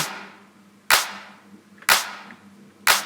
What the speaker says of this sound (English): this is the clap for a house genre